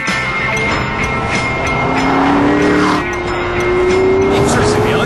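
A Pagani Zonda supercar drives by, its engine note climbing steadily in pitch as it accelerates, loud and close, with a voice speaking over the mechanical roar.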